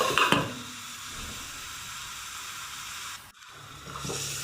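Salted vegetables for sago khichuri sizzle steadily in a covered pan, a continuous close hiss that briefly dips near the end before resuming.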